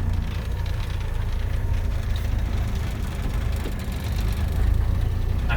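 A 1976 Ford F250 4x4 Highboy pickup crawls up a steep hill in first gear, its engine a steady, loud, low rumble with a slight swell of throttle toward the end.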